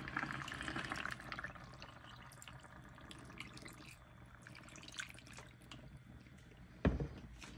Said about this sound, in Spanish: voy a agregarle agua